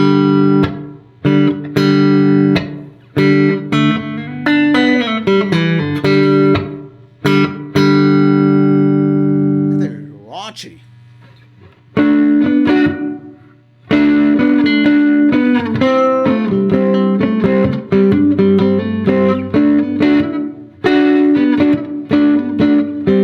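An electric guitar tuned to open G plays loud, distorted chords and single strums, with some sustained ringing notes, brief pauses and rhythmic chopped passages.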